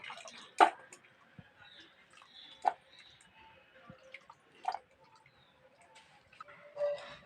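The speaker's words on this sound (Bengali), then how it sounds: "এগুলো এবার জলে ধুয়ে নেবো জলে ভালো করে ধুয়ে নিচ্ছি" Kunduli (ivy gourd) is rinsed by hand in water, giving sparse, soft splashes and drips at close range in an otherwise quiet space.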